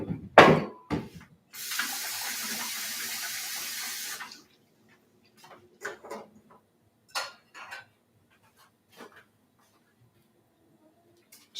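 A kitchen tap runs into a pot being filled for boiling, a loud steady gush of about two and a half seconds, followed by scattered clanks and light knocks of cookware in a quiet room.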